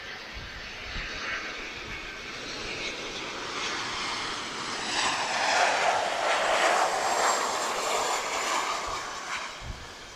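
A Boeing 737 Classic airliner passes at Lisbon Airport, a steady broadband engine roar that swells toward the middle and eases off, loud and continuous with no talk over it.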